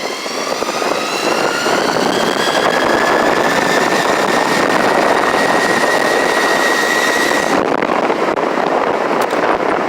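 A CYC X1 Pro e-bike motor at full throttle in second gear gives a loud, close, rising whine over rushing wind and road noise, then the pitch cuts out near the end.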